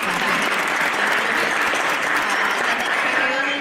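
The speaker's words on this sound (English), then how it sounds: "So we should clap for him if I'm allowed to ask." An audience applauds steadily, a dense, even wash of clapping that holds at the same level throughout.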